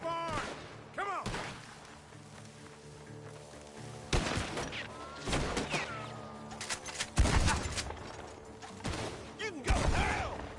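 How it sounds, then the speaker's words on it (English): Repeated gunshots ring out from a barn in Red Dead Redemption 2, loud separate cracks and volleys spaced across the stretch, some echoing, over a steady game music bed with occasional voices. "The gunshots are coming from that barn."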